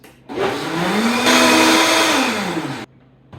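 A blender whirs loud and steady, blending oats and protein powder for a protein cheesecake, spinning up and running for about two and a half seconds before cutting off abruptly.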